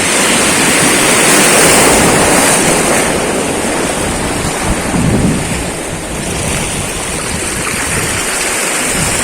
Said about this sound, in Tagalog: Pagka umahampas yung alon.